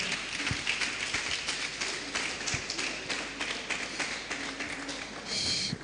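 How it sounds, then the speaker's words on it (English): Audience at a birthday lecture hall applauding, sustained clapping of many hands, steady and moderately loud with scattered sharper claps standing out. "Please continue to clap."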